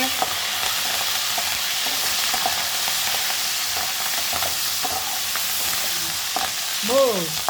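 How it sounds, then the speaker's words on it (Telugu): Curry leaves frying in a pan for a Nellore dry prawn curry, a loud continuous sizzle with stirring scrapes and brief crackles throughout, close up, with a short faint voice near the end. "దోరగా వేగాలండి."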